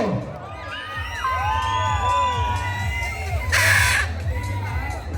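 Dense, loud crowd noise at a bodybuilding competition in Devanahalli, with people shouting and whooping over a steady rumble, high whistles and cries rising above, plus a short burst of clapping near the end.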